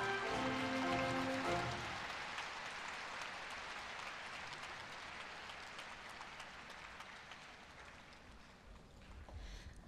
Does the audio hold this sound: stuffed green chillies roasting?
no